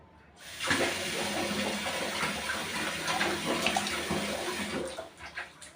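Water gushes from a bathroom tap for a bath in a steady, close, splashing stream that starts abruptly, holds for several seconds, then sputters and trails off.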